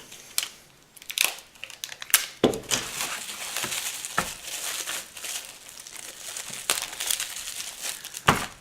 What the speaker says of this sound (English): You could tape these down a little more if you want it to look extra nice.